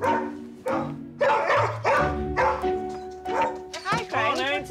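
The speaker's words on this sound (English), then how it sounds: "that's some bark you've got going on there" A dog barks repeatedly in a home, loud and close, with a run of deep woofs that turn into higher yips and whimpering whines toward the end, with no speech over them.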